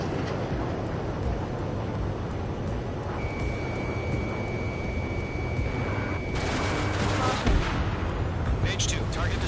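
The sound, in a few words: gunfire and anti-aircraft fire in the Ace Combat video game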